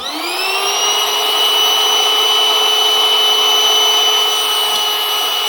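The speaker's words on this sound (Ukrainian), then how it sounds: "Пробуємо, чи надує кульку." A cheap electric air pump bought from AliExpress whines as it spins up and runs steadily while trying to inflate a balloon, a loud, sustained motor hum with a rising tone at the start and no talk.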